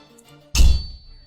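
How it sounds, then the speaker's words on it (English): In a video game, a candlestick strikes an armored man with one sharp, loud impact that mixes a heavy thud with a metallic clang, then rings away briefly. "It slams into his flank with an awful mix of a thud and a clang, sending him staggering off balance."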